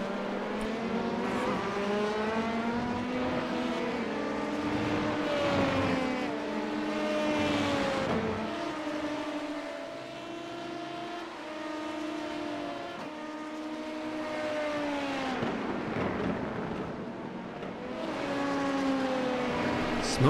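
An LMP2 prototype race car in the iRacing simulator, during an IMSA race, screams through repeated gear changes, its engine pitch climbing and dropping again and again at a moderate level.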